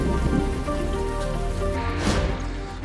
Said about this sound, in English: It happens every year at Sturgis, it rains.